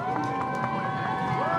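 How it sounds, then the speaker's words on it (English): A crowd at a high school varsity football game between Holbrook and Tuba City keeps up a sustained, dense roar of cheering with voices blended throughout. "And this crowd is electrifying."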